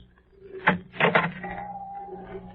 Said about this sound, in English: The door opens, and the man peers into a dead, dark room.